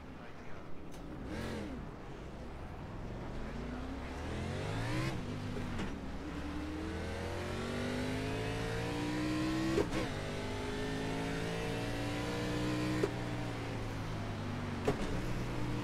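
Xfinity Series race car engines at Las Vegas in the iRacing simulator, a steady loud engine drone that climbs through the gears with repeated rising revs and shift drops, and a voice talking over it in places.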